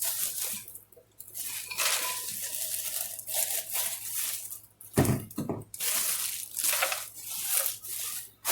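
Cookies tumble from a container into a used plastic bread bag, close crinkling plastic and bursts of rattling and scraping, with a short hollow thump midway.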